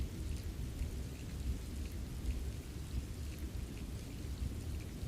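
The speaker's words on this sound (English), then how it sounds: "The rain outside had settled into a steady rhythm now" Steady rain falls outside in an even, soft hiss, with low thunder rumbling faintly underneath throughout.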